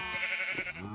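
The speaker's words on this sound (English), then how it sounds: "And then I want to shear the sheep." A Minecraft sheep bleats once, a clear, wavering call up close that lasts about a second, with no one speaking over it.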